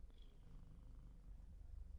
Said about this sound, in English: That's a rather loud purr you've got there.